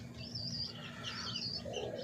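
Pigeons inside a loft in Ashulia, giving overlapping chirping calls and a low cooing murmur against a constant hum, moderately close and without anyone speaking.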